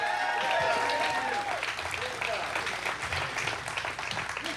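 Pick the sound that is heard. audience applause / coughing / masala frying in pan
audience applause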